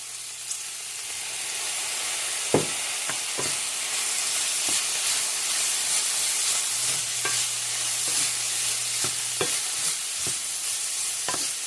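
Slices frying in a pan with a dash of coconut aminos, a continuous sizzle broken by sharp, irregular clicks of a utensil scraping and stirring, close and without speech.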